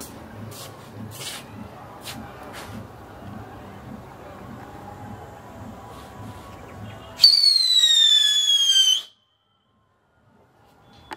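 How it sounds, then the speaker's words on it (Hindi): A Marvelous-brand whistling firework ball with colour smoke lets out a loud, steady, high descending whistle for about two seconds, then cuts off to silence. Before it, someone talks over background noise and faint clicks. "अब बारी है मार्वलोस कंपनी की विस्लिंग वाली ये बॉल है, कलर स्मोक भी है साथ में, चलाते हैं इसको"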